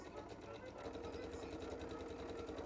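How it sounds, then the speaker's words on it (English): A sewing machine runs steadily, stitching the side seam of a dress lining that joins the front and back pieces. The needle chatters in a fast, even rhythm, close and faint, with no pauses. "I sewed the front and back together on one side seam"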